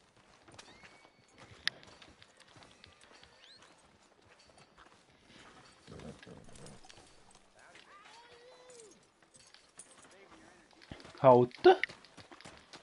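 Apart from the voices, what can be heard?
horse hooves clip-clopping in a video game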